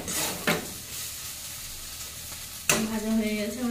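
Food fries in a wok with a continuous sizzle, broken by two sharp metallic scrapes or knocks of a spatula, the second followed by a brief ringing tone.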